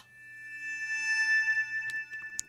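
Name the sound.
Omnisphere Glacier Bowing string layer with low cut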